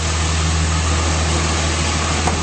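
A 2007 Dodge Ram 2500 with a 5.9L diesel and stick shift idles steadily, a smooth low rumble with a constant hum, close and fairly loud with no talking.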